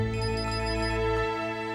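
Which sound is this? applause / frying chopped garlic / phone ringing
phone ringing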